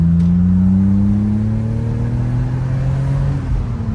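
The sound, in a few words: BMW 330Ci E46 six-cylinder engine accelerating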